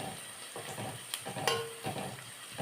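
Garlic, shallots and ginger sauté in oil in a pan for a Kerala fish curry, giving a steady close sizzle broken by a few brief stirring scrapes and clinks.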